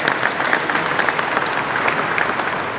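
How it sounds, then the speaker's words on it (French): An audience at the SPE France awards ceremony claps steadily in honour of a former president, a continuous mid-level patter of many hands with no voices over it. "Vous pouvez l'applaudir"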